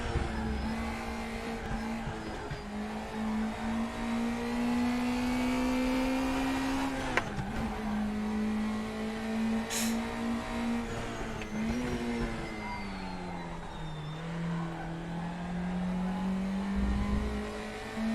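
A race car in RaceRoom Racing Experience, its engine holding a steady drone that rises and falls with throttle and gear changes, with brief tyre noise, heard close and continuous.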